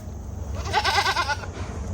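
A goat out with the herd lets out one close, wavering bleat lasting about a second, over a faint background hum.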